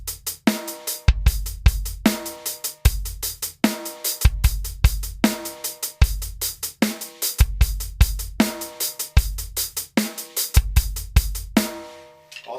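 A typical rock groove played on a drum kit: a steady repeating pattern of punchy bass drum and snare hits with cymbal wash, loud and close, running alone for several bars.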